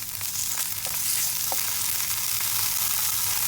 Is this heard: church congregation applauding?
no